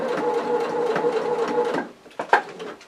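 Domestic sewing machine stitching a fabric tote bag around a corner, a steady close whirring run for almost two seconds that stops, followed by a few soft handling clicks and knocks.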